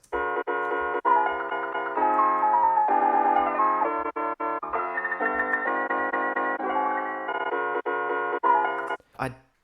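Upbeat electronic music built from chopped, stuttering chord stabs with a steady kick drum pulse, ending in a short glitchy sweep.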